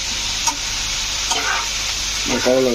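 Dried fish (shutki) with eggplant and spices frying in a pot, a steady close sizzle with scraping stir strokes and a brief voice near the end.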